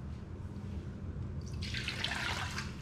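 Water poured into an Instant Pot for cooking carnitas, a steady splashing trickle that swells louder and brighter midway through, close and alone without talk.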